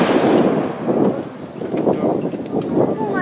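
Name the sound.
artillery battery firing a salvo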